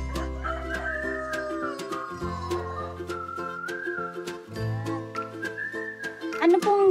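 Rhode Island chickens on a free-range farm, with roosters crowing repeatedly amid steady whistling and clucking, close and moderately loud throughout.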